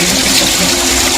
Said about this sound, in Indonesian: coba basahilah tanganmu dengan air mancur itu